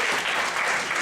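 A short, steady burst of audience applause for school office staff, even and continuous throughout, with no voices rising above it.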